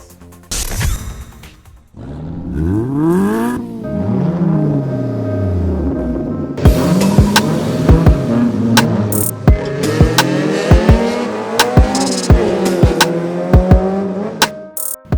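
Race cars run at an autocross round on the R33 Drift Track in San Simon, Pampanga, engines rising and falling through gear changes and passing by loud and close, with sharp bursts of tire noise near the end.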